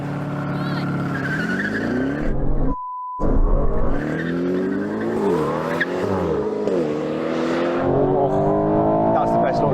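Aston Martin sports cars, a Valkyrie, Vanquish and V12 Vantage, launch together in a drag race, engines roaring loudly with rising revs, gear changes and tyre squeal, while a voice talks over the noise.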